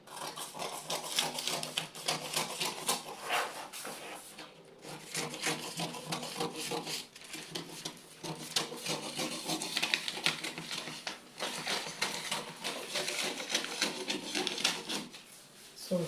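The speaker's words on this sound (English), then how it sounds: "So now we are going to cut out our patterns." Scissors cutting out paper pencil-skirt patterns, a continuous close, scratchy snipping and rustling of paper that runs steadily with brief pauses, no talking.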